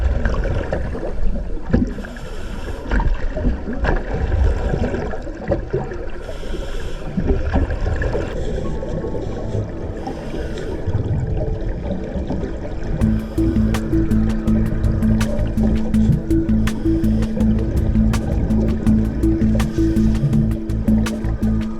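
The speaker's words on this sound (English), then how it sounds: "listen to the sound of my bubbles on the ice and the trapped air escaping through the hole we made" Scuba diver's exhalation bubbles under lake ice in Alaska, trapped air escaping through a cut hole; steady watery rumbling and gurgling throughout, turning into a denser bubbling churn with crackling pops in the second half, fairly loud and close, no talk.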